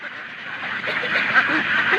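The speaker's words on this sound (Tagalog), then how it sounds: "Ayan na yung mga alagang itik natin." Domestic ducks kept for laying quack in a noisy, continuous chorus, fairly close and loud throughout.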